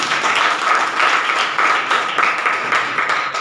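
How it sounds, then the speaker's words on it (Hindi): A room full of people claps loudly and steadily during a talk about money, with dense overlapping hand claps holding at an even level throughout. "एक बार जोरदार हो जाए पैसे के लिए ताली बजाएं।"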